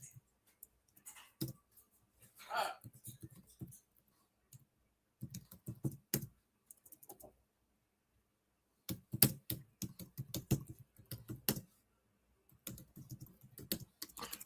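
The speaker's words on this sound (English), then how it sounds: "You think I was typing a freaking story here." Bursts of close computer-keyboard typing come in irregular clusters separated by quiet gaps, crisp rapid key clicks running for a few seconds at a time with no talking.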